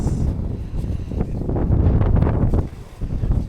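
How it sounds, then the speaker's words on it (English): Strong wind gusts across a roadside spot, a loud continuous roar buffeting the microphone with rising and falling surges. "look how windy it is"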